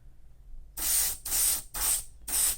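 Four bursts of airbrush spray applying candy metallic lacquer paint thinned with lacquer thinner onto a scale model kit, each hiss lasting about half a second with short pauses between, close and steady.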